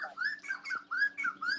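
A bird calls in a run of clear, rising whistled notes with squawky overtones, repeated about five times in quick succession and heard fairly close against a faint steady hum.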